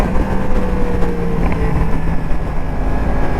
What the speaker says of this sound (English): As you can hear the bike right now, that still does not have the rear silencer on it.